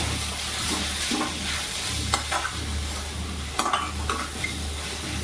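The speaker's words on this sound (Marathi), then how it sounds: "त्याच्यात आपण आता हे खोबरं टाकून घेऊ आणि भाजीला मिक्स करून घेऊ" Grated coconut is stirred into a fenugreek leaf bhaji in a pan: a steady low sizzle with soft scraping and a few sharp spoon taps near the middle and end, with no voices.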